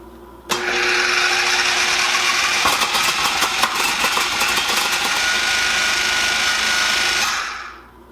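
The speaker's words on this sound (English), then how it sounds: "does a kitchen processor with a slicing attachment make it a lot easier. That's what I'm going to use." A food processor with a slicing attachment slicing beets: the motor whirs up abruptly and runs loud and steady with rattling cutting noise for several seconds, then winds down at the end, with no talking.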